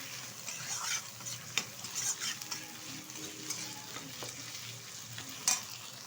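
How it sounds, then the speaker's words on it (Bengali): Scrambled egg bhujia fries in oil in a wok, giving a quiet sizzle broken by spatula stirs and a few sharp metallic clinks against the pan, with no talking. "এবার ভালোভাবে ডিমের ভুজিয়াটা আমি ভেজে তুলে নেব একটা পাত্রে।"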